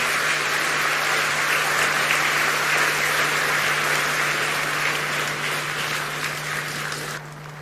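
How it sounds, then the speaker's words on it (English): A large audience at the Africa Climate Summit claps steadily in sustained, even applause that carries on for several seconds before tapering off at the close, with a low steady hum running underneath. "One more round of applause to all the speakers who have spoken so well."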